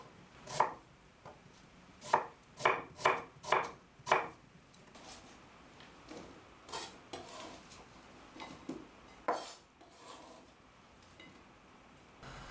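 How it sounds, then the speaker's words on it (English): A knife chops 500 grams of onions into chunks on a cutting board: sharp, close knocks in quick bursts of three or four, separated by short pauses. No one speaks. "cutting 500 grams of onions into chunks"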